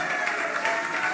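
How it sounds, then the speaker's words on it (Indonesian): Brief burst of enthusiastic congregational clapping at a church worship service in Batam, many hands applauding together in a continuous dense wash. "Tepuk tangan yang"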